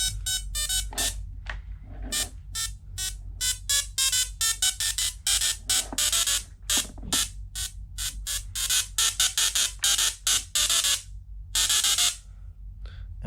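A small musical Tesla coil buzzes out a square-wave tune in loud, harsh bursts of electric tone, the notes pulsing in a quick rhythmic melody with short gaps between them, close and steady with no talking.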